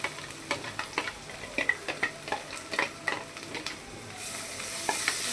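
Onion frying in a pan, a close, steady sizzle punctuated by a quick run of rhythmic spatula taps and scrapes, with the hiss rising brighter near the end.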